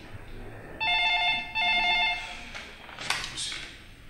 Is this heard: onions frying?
no